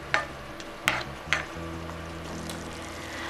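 Bok choy with garlic cooking in a pan, giving a low steady sizzle with a few sharp clinks of a utensil against the pan near the start.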